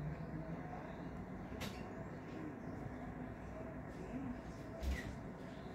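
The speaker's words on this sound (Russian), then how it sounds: "И еще два каких-то автобуса." Two buses pass along a street in a steady, rumbling wash of engine and road noise, with a brief hiss like an air brake and faint voices in the background.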